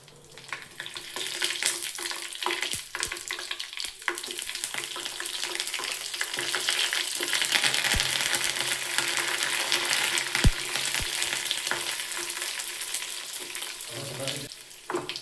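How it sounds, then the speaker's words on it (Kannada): Onion, garlic, curry leaves and green chillies frying in oil for a sambar, a loud continuous sizzle broken by sharp scraping stir strokes and clinks, building slightly louder midway. "ಇವಾಗ ಸ್ವಲ್ಪ ಹೊತ್ತು ಈರುಳ್ಳಿ ಫ್ರೈ ಆಗೋವರೆಗೂ ಫ್ರೈ ಮಾಡ್ಕೊಳ್ಳಿ."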